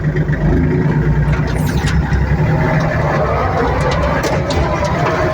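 A tractor engine pulling a 1.8 m disc harrow across a grassy field in seventh gear, a loud, steady, close drone with rumbling low tones that persists throughout without a break.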